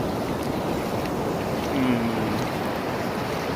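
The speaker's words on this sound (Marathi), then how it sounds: "कशा आहेत समुद्राच्या लाटा" Sea waves on Harne beach at Dapoli, Konkan coast, a steady broadband wash of surf with wind buffeting the microphone, fairly loud and continuous with no talk.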